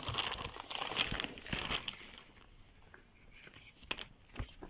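Plastic bag crinkling while a Monster Abra A5 V15 laptop is unpacked, close, busy rustling and crackling that eases off midway, followed by a few sparse crinkles, with no talk.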